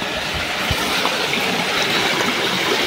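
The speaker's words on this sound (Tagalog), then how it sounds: "May munting sapa or ilog" A small stream trickles and gurgles steadily nearby, a soft continuous wash of running water with no talking.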